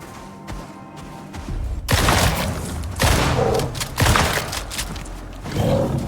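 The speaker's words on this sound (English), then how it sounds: "I guess this is as good a time as any to check out the shotgun." Shotgun firing in the video game Icarus while hunting a polar bear, with several loud, heavy booming blasts spaced about a second apart.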